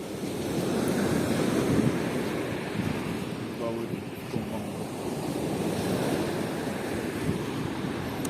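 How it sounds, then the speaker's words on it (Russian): Sea waves wash and break in a constant rushing surf, with wind gusting over the microphone throughout. "Иди поближе поснимай море."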